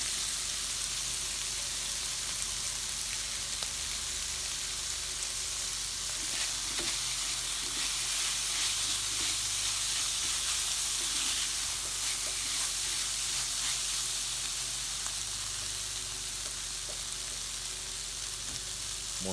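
Pasta and wild mushrooms frying in a pan, a steady close sizzle with occasional stirring scrapes throughout, no talking.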